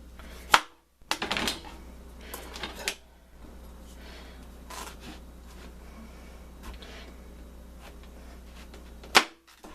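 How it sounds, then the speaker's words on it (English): A knife cuts the ends off a squash for a lentil and potato curry: a few sharp, close cutting knocks near the start and one more near the end, with quiet handling in between. "let's get to cutting this squash first. I'm gonna cut off the ends."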